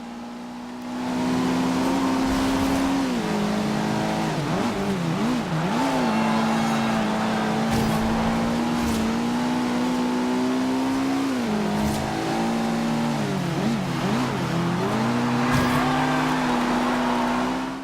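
Mitsubishi Evo engine from Forza Horizon 2, an all-wheel-drive car, revving loudly and continuously, the pitch rising and dipping repeatedly as it accelerates and eases off through turns, with faint tire squeal.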